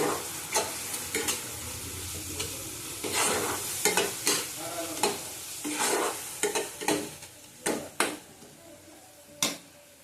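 Ghugni is stirred in a pan with turmeric powder, with a soft sizzle of frying under repeated scraping clinks of a spoon against the pan at an irregular rhythm.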